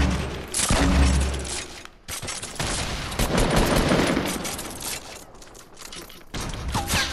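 Rapid bursts of gunfire in the video game Fortnite crackle in dense, loud volleys, with a brief gap before the shooting resumes and keeps going to the end.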